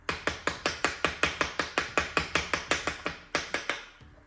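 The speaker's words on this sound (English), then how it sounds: "And I'll go around with the ballpoint hammer on that side." A ball-peen hammer taps at a steady, quick rhythm of about four close, crisp strikes per second during a Ford Escort Mk2 C20XE engine build, with one short pause before the final few taps.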